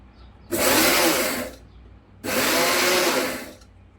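Mixer grinder pulsing dry fruits in two loud bursts of about a second each, separated by a short pause, with a whirring, broadband roar in each burst and no talk.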